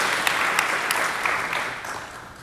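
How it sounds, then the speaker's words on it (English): Audience applause fills a school honor society induction ceremony, a steady wash of many hands clapping loud and close throughout, fading slightly toward the end. "we should start by just having a round of applause for Ms. LaMontagne and her work this evening"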